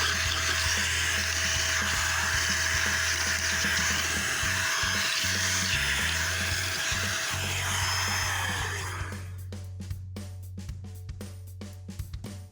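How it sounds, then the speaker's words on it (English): A compressed-air tool blasts a loud, steady rush of air to clear dust from a ceiling light fixture opening, cutting off after about nine seconds into quieter clicks and small handling taps. "since I have the tool, I like to blow out the area before I put the new light"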